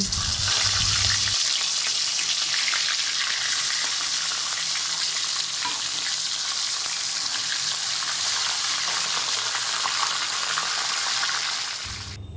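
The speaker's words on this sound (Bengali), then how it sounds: "বাকি মাছটা ভেজে নেব।" Tilapia fish fries in hot oil with a loud, continuous, hissing sizzle that holds steady close by for the whole stretch and eases only slightly at the very end.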